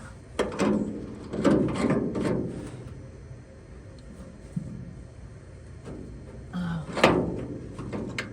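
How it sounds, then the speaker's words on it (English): Ratchet wrench turned by hand on a Studebaker, giving a few short clicking bursts with pauses between them in a workshop, mixed with faint knocks and handling. "Turn this ratchet in the right direction here."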